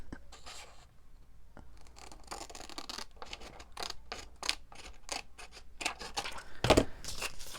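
Paper being cut with scissors during a crafting session, a string of soft crisp snips and rustles at close range with one louder cut near the end, no talking.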